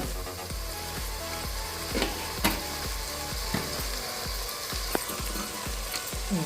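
Chili powder and spices sizzle in hot oil for a Telugu tomato rice dish, a loud continuous frying hiss broken by steady rhythmic scraping and clinking of a spoon stirring the pan.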